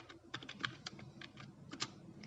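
Quiet, irregular clicks of keys as a password is typed on a computer keyboard, a short burst of separate taps at close range with no talking.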